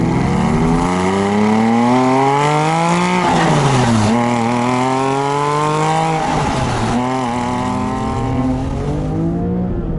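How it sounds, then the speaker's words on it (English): A Porsche 997.1 GT3 RS rumbles up close as its engine revs rise and fall several times, with a clear gearbox whine climbing in pitch alongside each pull. No one speaks. "twisting the key brings forth gear whines and rumbling cylinder sounds"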